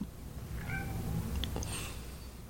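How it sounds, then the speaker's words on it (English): A cat meows at a door, a faint, drawn-out call or two heard from a short distance in a quiet room. "Now, you might hear a cat at the door."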